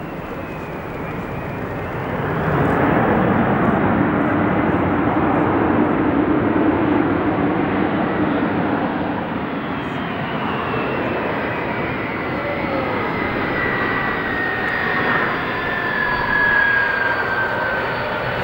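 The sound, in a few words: Airbus A300 braking as hard as possible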